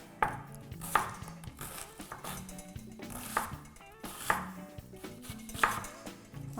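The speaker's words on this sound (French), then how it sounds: "On va couper un oignon." A knife chopping an onion on a board in a kitchen, a handful of sharp, irregular knocks with softer clatter between them, close and without talk.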